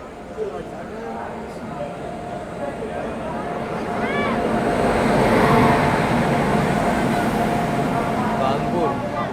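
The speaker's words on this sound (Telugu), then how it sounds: "యశ్వంత్పూర్ చండీగఢ్ ట్రైన్ అయితే వచ్చిందండి" The Yesvantpur–Chandigarh train rolls into platform 2 at a station, its rumble and rattle swelling steadily as it nears. A person talks over the noise.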